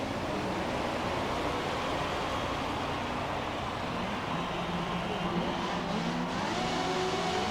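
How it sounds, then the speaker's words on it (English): A McLaren MP4/6 Formula One car idles at Interlagos in a racing video game, a steady engine drone with faint rising revs, constant and close throughout with no talk. "Burnout off the line."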